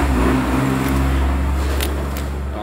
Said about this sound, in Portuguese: Caminhão na rua.